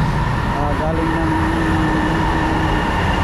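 An MRT train passes along EDSA amid steady roadside traffic roar, a loud continuous rumble with faint brake squeal, heard near and without pause.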